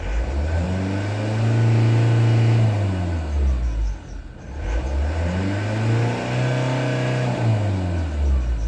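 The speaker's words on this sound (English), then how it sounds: "what's happening is it accelerates and then it's dropping down" A car with an oil pump problem and a transmission that will not select drive gear revs up loudly and close, holds, then its revs drop, and the engine climbs and falls again in a second surge.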